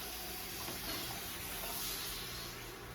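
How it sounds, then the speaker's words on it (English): Water is poured into a cooking dish for a rice bowl with squash, mushrooms and tofu, a steady, close, hissing splash lasting a few seconds with no speech. "we'll add some water"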